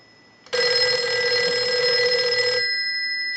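A Western Electric 302 rotary desk telephone, under repair, rings its bell in one steady burst of about two seconds, loud and close, then stops abruptly with a faint hum remaining.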